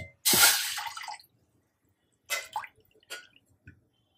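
Water pours into a pot in a long splashing burst, followed after a pause by a few shorter pours and drips, close by with no talking.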